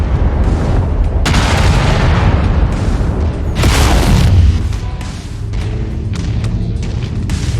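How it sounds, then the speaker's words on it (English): Loud booming missile explosions in the Mechwarrior 5 video game, a dense rumbling barrage with several sharp blasts and a big burst near the middle, then a lower rolling roar, with no talking. "Incoming missile."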